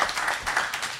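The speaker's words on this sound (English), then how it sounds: "let's give them a big round of applause for this evening" An audience at an evening event on Hong Kong as a startup hub claps in a short, dense burst of applause. Many hands patter rapidly and evenly for about a second.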